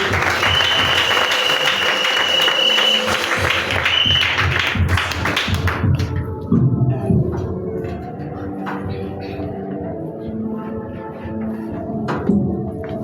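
A church congregation applauds during a worship and praise service: dense, loud clapping for about five seconds, then thinning into scattered claps and taps with some murmuring voices.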